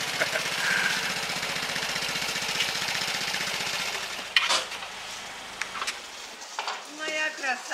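A Vespa motor scooter idles nearby in Tallinn with a rattly, pulsing putter for about four seconds, then drops away as voices and a few sharp knocks follow.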